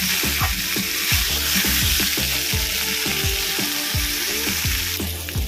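Vegetables and spices sauté in a pan for a chhana bori shukto, giving a loud, continuous sizzle with repeated rhythmic spatula scrapes and knocks throughout.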